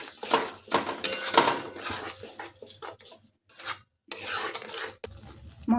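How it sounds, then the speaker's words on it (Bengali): Spice paste with ground coriander, Kashmiri chilli powder and salt scraped and stirred in a pan for an egg dish, a run of rough metallic scraping strokes with brief pauses, close and alone. "এখন মশলাটা ভালোভাবে কষে নেব"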